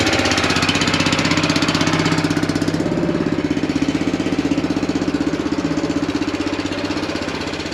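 A small petrol engine on garden equipment runs on choke with a loud, fast, steady chugging throb, close by and continuous throughout, slightly fading toward the end.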